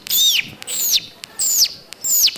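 A human voice imitates morning birds singing, performed on a talent show: four bright, high chirping calls with falling sweeps, evenly spaced and close, with no other sound around them.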